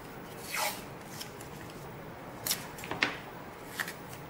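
Scissors cut paper for a stamping mask, giving a few short crisp snips and rustles spaced out over a quiet background.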